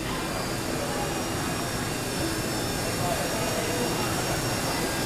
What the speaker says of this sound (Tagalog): This time it's Trish Chua flying the helicopter.